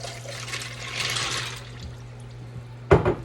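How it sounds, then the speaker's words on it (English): Hot water pours into a multipurpose steamer holding dry pasta, a soft rushing hiss, then a brief louder splash near the end, fairly faint over a low steady hum. "You're gonna put 4 cups of hot water."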